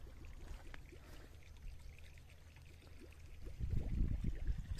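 Water bubbling and gurgling through a pipe that is drawing in a lot of air at a small rural property, a steady flowing rush that swells louder and deeper toward the end, with no talking.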